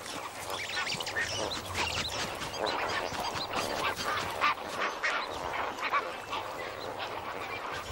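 A huge flock of over a million flamingos gathered at Lake Bogoria keeps up a dense, continuous honking and gabbling chorus, loud and steady throughout with no voices over it.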